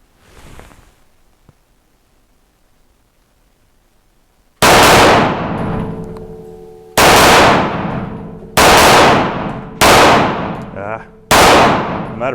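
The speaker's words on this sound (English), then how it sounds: "I'm gonna try hammering some at the target." A Grand Power Mk23 X Calibur pistol fires five very loud, close shots on a range, each blast ringing out before the next, with quiet handling noise before the first.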